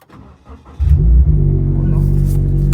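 A motorcycle engine cranks and catches, then settles into a steady loud rumble with a slight rev, close by.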